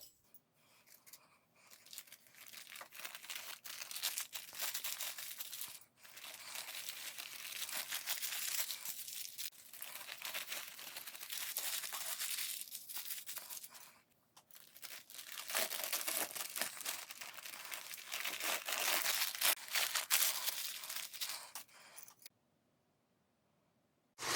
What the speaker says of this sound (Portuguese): O que eu vou fazer agora é embalar esses pedaços aqui em papel